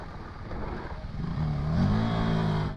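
A KTM 390 Adventure motorcycle in off-road ride mode rises in engine revs under throttle, a brief, moderately loud accelerating drone with no talking.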